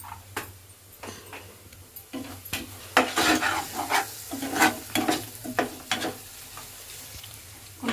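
A tempering with asafoetida fries in a pan with a soft sizzle. Close, irregular scraping and clinking of a spoon against the pan rise in a busy burst midway and then thin out, with a low hum beneath.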